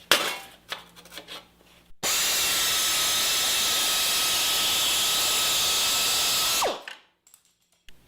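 A power tool cutting sheet metal in a workshop runs as one loud, steady, high-pitched grinding whine for nearly five seconds, then winds down and stops, after some brief handling noises.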